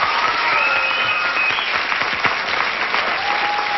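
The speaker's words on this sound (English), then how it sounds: "I just want to give these guys a nice round of applause." Studio audience at a 1987 syndicated Card Sharks game show breaks into loud, sustained applause, a thick even roar of clapping running from start to finish.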